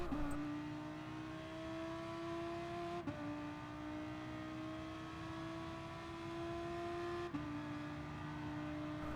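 A Gr. 3 Audi R8 LMS race car accelerates at Suzuka Circuit in Gran Turismo Sport, its engine note climbing steadily, with two quick upshifts that drop the pitch before it rises again. The engine stays loud and continuous, with no voices.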